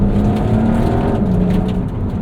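A 2025 Porsche 992.2 Carrera 4 GTS engine roars loud and close from inside the cabin as the PDK gearbox upshifts, its pitch dropping briefly mid-shift before the steady drone resumes.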